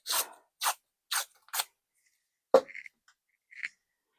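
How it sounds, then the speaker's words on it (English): Paper being torn for a junk journal: four short crisp ripping bursts in quick succession, a sharper tear, then small rustles, close and quiet with no voice. "Tearing off that outer piece of the flap."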